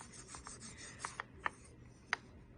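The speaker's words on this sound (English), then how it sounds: "So let me just finish sanding this." Sanding polymer clay earrings by hand, a handful of quiet, close rubbing strokes with a few sharper scrapes spaced irregularly.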